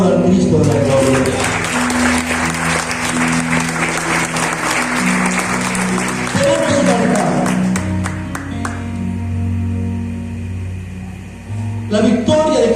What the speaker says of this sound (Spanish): Aplauda al Cristo de la gloria.